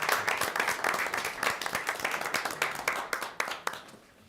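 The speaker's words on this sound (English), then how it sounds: "So let's give them a round of applause." An audience at a school board meeting claps in a dense, steady round of applause that thins out and fades toward the end.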